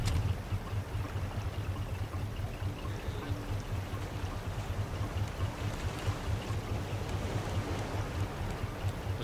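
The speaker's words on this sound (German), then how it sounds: "Komm, wir starten mal den Motor." A raft's boat motor runs in the survival video game Raft, a steady low churning drone with watery splashing, continuous and fairly loud throughout.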